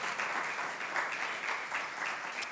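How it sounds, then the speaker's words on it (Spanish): Applause from a church congregation during a sermon, a steady dense wash of many hands clapping together, fairly loud and continuous throughout with no talk over it. "Dale una ofrenda de palmas por eso."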